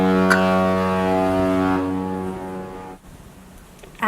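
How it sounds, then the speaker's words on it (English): A riverboat horn at Tower Bridge in London sounds a long, steady, deep honk that holds loudly for about two seconds and then fades out, leaving quiet background noise. "Look, the gates are opening on Tower Bridge. Honk, honk."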